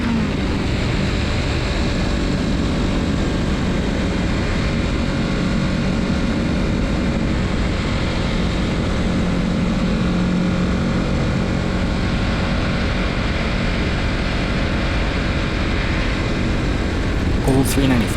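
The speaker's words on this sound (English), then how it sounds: "Enjoying the revs of the 650cc engine of this Kawasaki." A 2024 Kawasaki Z650RS motorcycle with a 650cc engine runs on an open country road, giving a steady, loud drone mixed with wind rush, with little change in pitch throughout.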